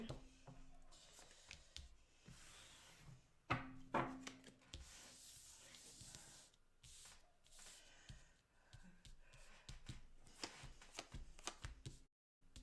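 Tarot cards shuffled and pulled by hand, a continuous close papery rustle and riffle with soft slaps and rubbing, with one sharper snap partway through and no voices.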